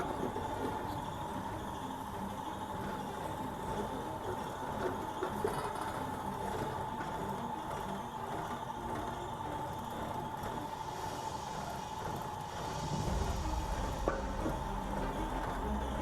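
A Komatsu PC10-7 mini excavator on rubber tracks idles without being revved, giving a steady, even engine hum with a slightly deeper surge near the end.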